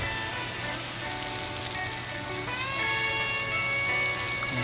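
Lamb chops sear in a hot pan with a steady, close sizzle and crackle of frying fat running throughout, with faint tonal music in the background.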